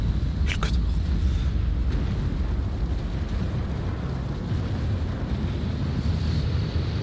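Strong wind buffets an open outdoor spot by the sea, a steady loud roar with low rumbling gusts and surf-like wash throughout, plus a brief higher whistle near the start.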